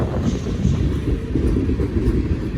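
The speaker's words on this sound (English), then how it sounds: "There actually is an end to this train." A long freight train keeps rolling by in a steady, low rumble with faint clickety-clack, heard close and without voices.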